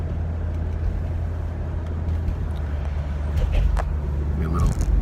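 Steady low rumble of a car being driven, heard from inside the cabin, with road noise swelling slightly toward the end and no voices.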